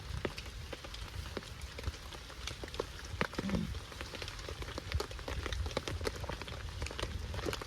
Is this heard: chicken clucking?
no